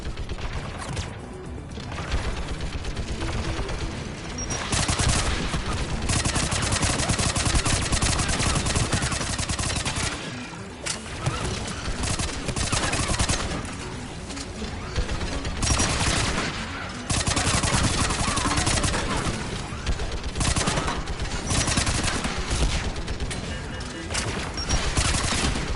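Turret gunfire rages in a PS4 video game, continuous loud bursts of automatic fire and explosions layered densely for the whole stretch.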